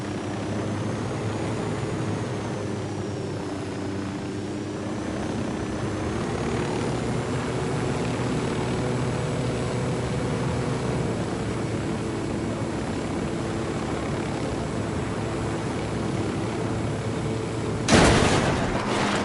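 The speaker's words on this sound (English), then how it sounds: "Oh yeah, we got your helicopter." A helicopter in the Ghost Recon video game hovers with a steady, loud rotor and engine drone throughout, ending with a sharp burst of noise near the close.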